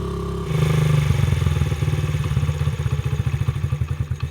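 A dirt bike engine, newly revived after sitting over five years, idles too high close by, its fast, even putter starting abruptly and staying steady, slightly uneven toward the end.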